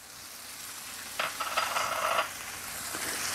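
Soft, steady sizzle of onion with a pinch of salt frying in a pan, briefly rising into a louder crackling burst mid-way as it is stirred, then settling back to a faint hiss.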